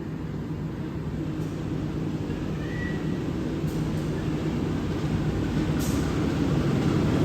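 The Penataran passenger train enters Sidoarjo station with a steady, low rumbling roar of wheels and carriages that stays loud and continuous, with a faint brief squeal in the middle.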